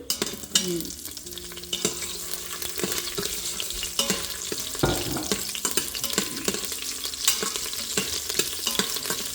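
Whole masala spices sizzle steadily in hot oil for a home-cooked veg biryani in a UK kitchen, with occasional clinks and scrapes of stirring over the constant frying hiss, close and fairly loud.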